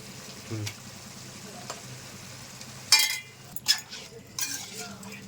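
Ginger-garlic paste frying with tomatoes in a pan for mutton biryani: a steady soft sizzle with a few sharp clinks and scrapes of a utensil against the pan, fairly close.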